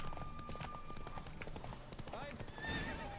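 Horse hooves galloping in The Witcher 3 during a horse race, busy continuous game audio with whinnies and ambient effects layered over steady clip-clop, with someone talking throughout.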